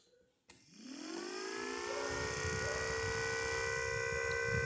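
A click, then an electric 14-port siren running on 3 volts winds up, its multi-tone pitch rising and settling into a loud, sustained wail.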